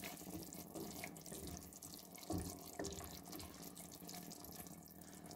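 Broth pours steadily into a pot for a healthy five-grain Ramadan soup, a continuous close liquid splash with a couple of brief louder glugs, no talk.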